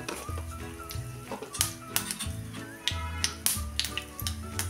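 Mustard seeds and asafoetida sizzling in hot oil, a steady frying hiss peppered with sharp crackles and pops as the seeds burst.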